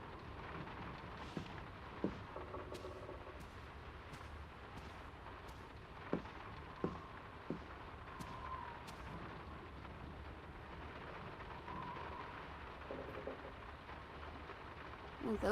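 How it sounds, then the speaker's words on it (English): Steady rain falling in a Norwegian village in the video game Draugen, a soft continuous wash with a few faint thumps and clicks scattered through, quiet and ambient with no talk. "It's getting late, and the rain's not abating."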